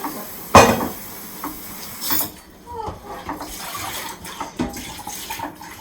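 Water runs from a kitchen tap into a pan for boiling spaghetti, a rushing pour broken up by clanks and knocks of the pan and utensils, with faint background voices.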